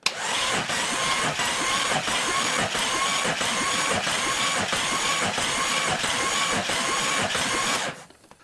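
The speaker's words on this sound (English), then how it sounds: "you can hear it making compression" Jeep 4.0L inline-six engine cranking over on a remote starter, a steady, even rhythmic chugging of compression strokes for about eight seconds before it stops abruptly, loud and close with no talking.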